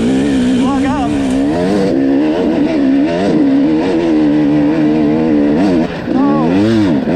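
A dirt bike engine lugs uphill in gear during a hillclimb, a loud, close, low growl that rises and dips steadily, with a brief drop near the end and a voice speaking over it.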